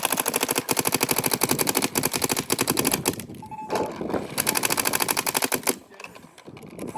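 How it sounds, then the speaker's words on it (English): A DLX Luxe Idol paintball marker firing paint in rapid bursts outdoors on a cold day, a loud close mechanical rattle of shots in fast strings broken by short pauses. "Let it rip. Shoot all that paint"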